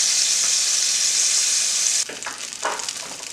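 Cube steak sizzles loudly in about four tablespoons of vegetable oil in a hot, smoking cast iron pan, then the hiss abruptly drops lower and turns patchier, with a few sputtering pops.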